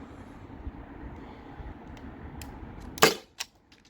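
A Byrna SD launcher powered by a 12 gram CO2 cartridge fires once; a single sharp, close pop follows a quiet stretch, with a smaller click and brief tail afterward.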